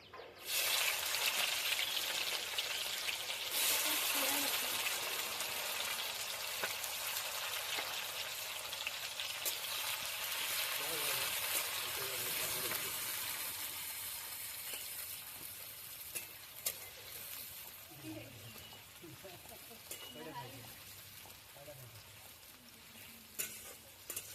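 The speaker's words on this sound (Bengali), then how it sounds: "পেঁয়াজ আর টমেটোটা হালকা ভাজা হোক" Chopped onion and tomato fry in a pan over a cumin tempering, with a loud steady sizzle that gradually softens, broken by occasional stirring scrapes.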